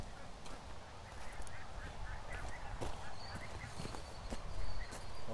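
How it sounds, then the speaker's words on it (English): Canada geese honk by a swamp in scattered calls at moderate distance over outdoor background noise, with a person talking now and then. "I'm gonna see if that keeps the Canada geese out of here"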